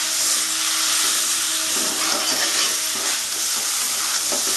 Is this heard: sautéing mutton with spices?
yes